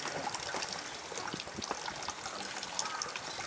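Holy water trickles and splashes softly at a shrine in Japan, a faint, continuous dribble of water with light irregular drips close by.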